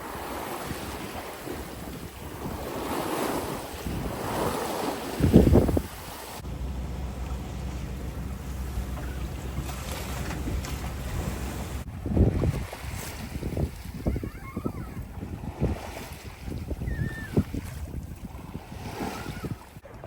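A sailboat moves across open sea between Italy and Croatia, with steady wind rushing over the microphone and waves washing and slapping against the hull throughout, gusts swelling now and then.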